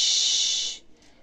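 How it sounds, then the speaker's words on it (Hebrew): A single sustained 'sh' (shin) sound voiced on an outward breath during a breathing exercise, a loud steady hiss lasting most of a second before trailing off into quiet. "ניקח שאיפה, ובנשיפה נשמיע את הצליל שין."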